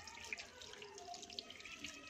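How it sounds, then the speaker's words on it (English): A bathroom sink tap runs steadily during handwashing, a soft continuous hiss of water with faint splashes, close by and fairly quiet, with no talking. "turn on water"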